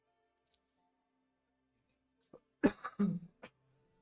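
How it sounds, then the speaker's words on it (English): A single close cough bursts out after near silence, followed by a short throaty tail and a faint click. "I tried to cough away from the mic"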